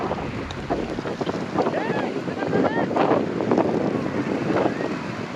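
Strong stormy wind gusts in Nanded district, India, strong enough to tear off house roof sheets, roaring and buffeting the microphone, loud and continuous, with indistinct voices shouting underneath.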